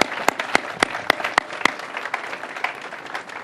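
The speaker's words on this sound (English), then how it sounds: "Give him a round of applause" An outdoor groundbreaking crowd applauds Mayor Andy Hanko, a handful of loud, close claps ringing out at a steady pace over a softer spread of clapping that gradually thins.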